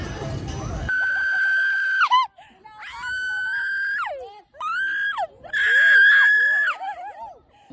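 A person on an amusement ride lets out several long, high-pitched screams in bursts separated by short pauses, loud and close.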